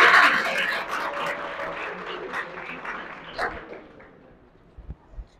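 An audience at a live comedy show breaks into applause that starts loud and gradually thins and fades, with a few scattered claps near the end.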